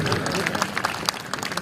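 Audience clapping fills a hall at a speech event in Haridwar, a dense, steady wash of applause with crowd murmur throughout.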